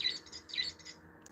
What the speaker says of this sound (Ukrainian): Пташка